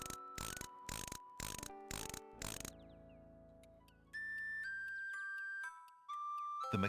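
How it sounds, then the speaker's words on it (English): In King's Quest VI, the 1992 computer game, a mechanical nightingale is wound with several sharp ratcheting clicks in regular bursts, followed by tinkling chime-like notes over a synthesized music background. "Alexander winds the mechanical nightingale and places it on the ground."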